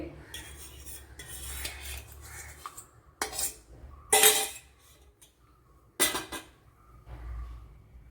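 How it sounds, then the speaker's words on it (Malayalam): Curd stirred into pineapple pulissery with a metal spoon, giving close scrapes and clinks against the pot in short, uneven bursts with quiet gaps between. "ഇതിലേക്ക് ഇനി ഒഴിച്ചു കൊടുക്കാം തൈര്."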